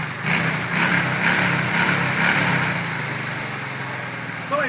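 A custom Honda Shadow 600 motorcycle fitted with a Roncar Scorpion 2Way exhaust switched to quiet mode runs with a steady, muffled engine drone at moderate loudness, a few slight swells in the middle and a short blip near the end.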